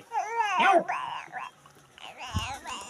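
A dog waiting for bhakri bread gives high, wavering whimpers and short yips, close by, with a few brief pauses between cries.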